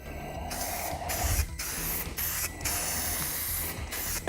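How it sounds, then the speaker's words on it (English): Short bursts of adhesion promoter sprayed from an aerosol can onto a car door panel hiss in a series of quick misting passes, close and fairly loud, with brief pauses between each spray. "this is just an adhesion promoter."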